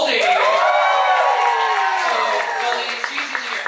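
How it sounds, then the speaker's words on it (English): A comedy-show audience bursts into loud applause and cheering, with clapping, whoops and shouts blending into a sustained crowd roar that stays strong for several seconds. "let's give another round of applause for Goldie"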